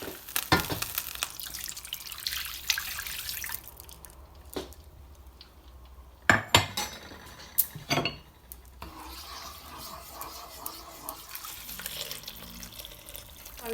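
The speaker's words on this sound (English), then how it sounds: "I'm going to put this beef into the slow cooker and then deglaze the pan with some water" Water splashes and swirls in a hot pan being deglazed after beef goes into a slow cooker, with stirring and scraping, a few sharper clinks and clatters, and a running-tap wash partway through, heard up close with no talk.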